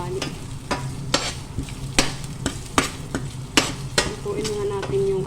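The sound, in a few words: frying spices in a pan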